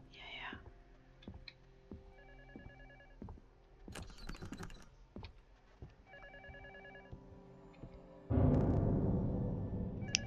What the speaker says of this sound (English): the phone keeps ringing